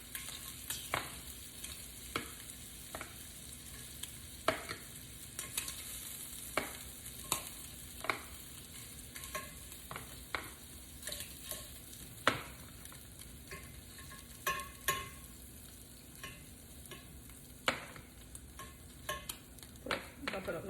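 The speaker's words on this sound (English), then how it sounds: "In the same grease, we're going to cook up our scallops." Scallops fry in leftover grease and butter in a pan, giving a quiet, steady sizzle punctuated by frequent sharp clicks and scrapes of a utensil against the pan.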